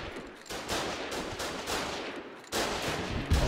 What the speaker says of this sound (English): Shooting. Incoming. Keep shooting it.